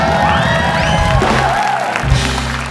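A television comedy studio audience for Opera Van Java cheers, whoops and applauds loudly and steadily in a dense, continuous wash of crowd noise.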